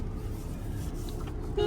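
A car engine hums as a low, steady rumble from inside the vehicle during a family road trip. A short horn-like tone comes in near the end.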